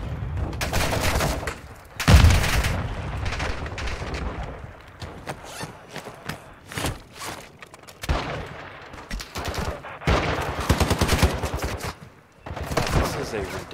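Rapid bursts of automatic gunfire and sharp single shots in the Warzone 2.0 DMZ video game, loud and close, coming in repeated volleys separated by brief pauses, with voices talking in between.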